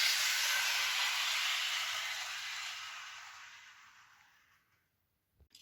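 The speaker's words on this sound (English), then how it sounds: "Now the Bachmann tanker." A Bachmann model tank wagon rolls along model railway track with a steady hiss that gradually fades to silence over about five seconds, followed by a couple of soft knocks.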